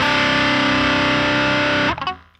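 An electric guitar through a distortion effect sustains a thick, buzzing, saturated chord loud and alone, then is cut off abruptly, leaving a brief rattling decay.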